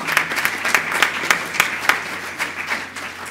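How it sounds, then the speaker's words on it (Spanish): A conference audience applauds a presenter at a medical meeting on difficult electrophysiology and ablation cases. The steady clapping is close and fills the room, with sharper individual claps standing out throughout. "Un aplauso."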